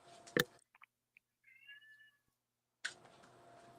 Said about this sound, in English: I hear that kitty cat.